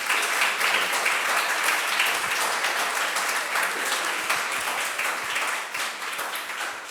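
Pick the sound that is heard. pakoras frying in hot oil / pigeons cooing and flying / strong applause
strong applause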